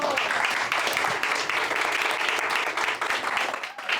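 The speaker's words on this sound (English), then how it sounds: "Round of applause for Tiana Clark." At a poetry reading, the audience breaks into sustained, dense applause, a steady wash of clapping throughout with faint voices mixed in.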